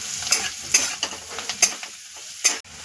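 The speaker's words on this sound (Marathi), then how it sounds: "आणि थोडीशी कोथिंबीर, चवीपुरतं मीठ, सगळं एकत्र करून घेऊया।" Coriander and salt are stirred into a sizzling potato curry in a pan, a spoon scraping and tapping against the metal in several quick, close strokes over steady frying.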